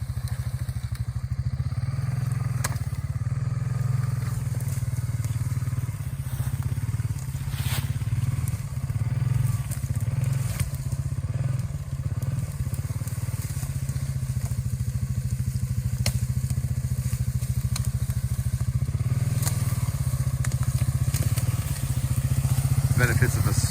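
A Honda Rancher ATV skids logs with a steady low engine drone throughout, punctuated by occasional clatter and thumps, with a voice faintly present over it.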